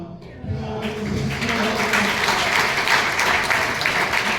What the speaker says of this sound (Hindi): थोड़ी तालियों का घनत्व बढ़ाइएगा।